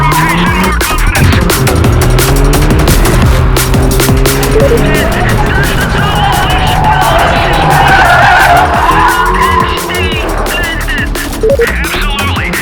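Alpine race car cornering hard, its tires squealing loudly and continuously through the bends over a steady engine roar, recorded close from on board.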